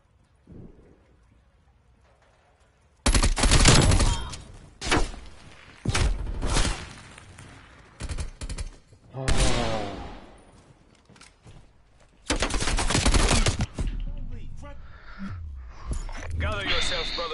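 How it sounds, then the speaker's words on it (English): Loud bursts of gunfire and a bomb explosion from the video game Call of Duty Cold War crack in repeated clusters over about fourteen seconds, with voices talking over and between the shots. "Bomb dropped."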